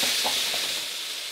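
Chicken sauce sizzles and hisses in a hot pan while it is deglazed with alcohol. The frying noise is steady, close and bright, with a few soft stirring bumps early on, and there is no talk.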